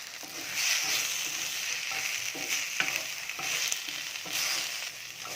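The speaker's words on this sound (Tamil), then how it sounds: "அப்படியே எண்ணெயில் வந்து ஒரு நிமிஷம் நல்லா வதக்கிட்டே இருந்தால்" Boiled plantain with turmeric and garam masala sautéing in hot oil, with a constant sizzle and a series of spatula scrapes and stirring taps at an irregular rhythm, close by.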